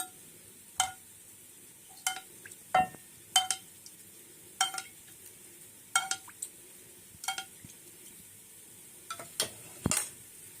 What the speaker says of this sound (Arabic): وبرضو هفضل ادعك فيها كده لحد الكنافه ما تتشرب السمنه كلها